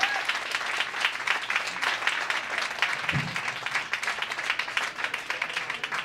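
Comedy club audience at Yuk Yuks in Hamilton applauding comedian Jason Allen, a steady, full wash of clapping throughout with scattered whoops, fairly loud and unbroken.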